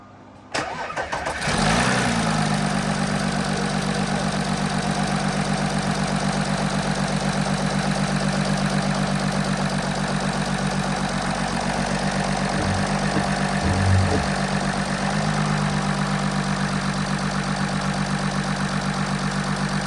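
An Audi A6 C7 3.0 TDI diesel engine, with a newly installed injector, cranks briefly and catches, then settles into a loud, steady, even idle that runs close up and alone until the end.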